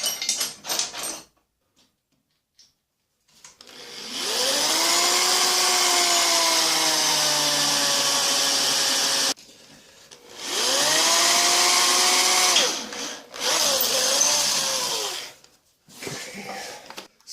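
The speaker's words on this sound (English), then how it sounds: "An H-size drill." An electric drill bores with a letter H tapping-size bit, the English equivalent for an M8 x 1.25 tap, while a fence is fitted to an old Delta table saw. Three close whining motor bursts rise, hold, then sag in pitch as the bit cuts.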